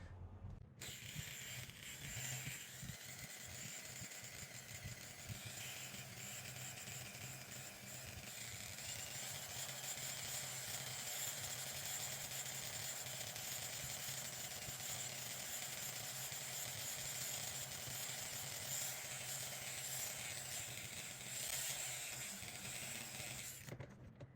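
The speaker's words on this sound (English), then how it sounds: "I'm gonna use the buffing wheel" A buffing wheel polishes a meteorite and platinum wedding ring, giving a steady, loud whirring hum with a bright high-pitched grinding hiss that runs without pause for the whole stretch.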